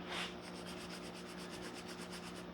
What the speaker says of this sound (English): I'm gonna go ahead and get some steel wool. And further sand it.